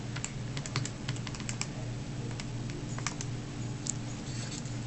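Numbers are keyed into a calculator, giving a quick, irregular patter of light plastic key clicks, close by and fairly soft, over a steady low hum.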